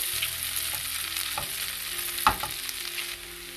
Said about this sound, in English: garlic finely chopped, ginger grated. Allow this to fry a little bit.